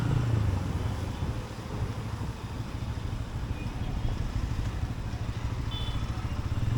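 A Pulsar N160 motorcycle rides in third gear, its engine a steady low droning hum mixed with wind rush, close and continuous with no speech.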